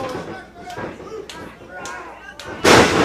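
A wrestling super kick lands in the ring with a sharp thud, among other bumps and slams, while a commentator talks over it and a heavy crowd roar builds at the end.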